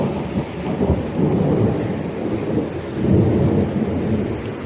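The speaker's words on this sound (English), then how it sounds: "Literally past like 3 to 5 days it's been raining." A steady downpour during a stretch of several days of rain, with deep thunder rumbling continuously underneath; the rain hiss stays constant and the thunder swells and fades without any voices.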